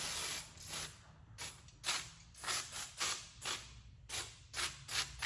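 Transmission fluid is sprayed onto a surface in a series of short, soft hissing bursts, about a dozen in an irregular rhythm, quiet and close with no voices.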